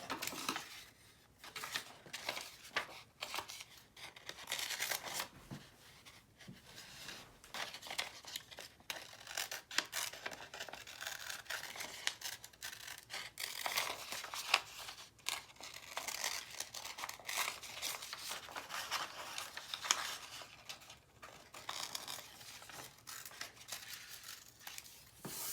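Scissors cut out a taped paper piece for a homemade rain shaker: close, quiet, irregular snipping and crinkling continue throughout.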